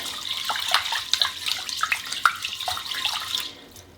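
Starchy water is poured off washed rice in a cottage kitchen, a close splashing trickle with several small clinks and plops that thins out and stops near the end.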